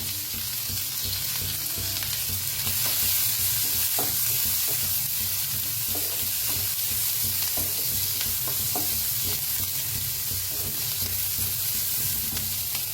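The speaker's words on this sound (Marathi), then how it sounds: "जास्त बी ह्याला कांदा लई भाजायचं नाही, मध्यम असा भाजला पाहिजे" Onion frying in a pan for Mysore dosa, a steady loud sizzle and hiss running throughout with occasional scraping stirs, close and uninterrupted, no talking.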